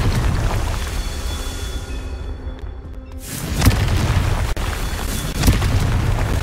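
A Confringo fire spell bursts in the video game Hogwarts Legacy, a loud booming explosion around three seconds in that follows a brief hush and rolls into a dense, rumbling roar, with further sharp blasts after it.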